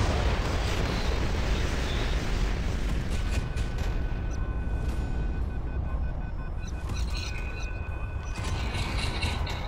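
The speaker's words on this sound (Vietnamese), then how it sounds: "Súng phóng lựu đây." In the Modern Warships naval combat game, a grenade launcher fires. Dense, booming blasts and mechanical clatter roll on continuously over a loud, noisy battle background, with no voices.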